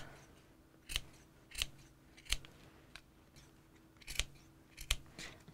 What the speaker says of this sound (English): Snipping my corners, making fringe.